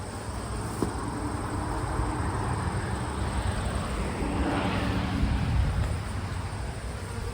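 Honeybees buzz around hives in a steady, dense drone that swells slightly midway, a broad outdoor hum close to the hive entrances with no talking.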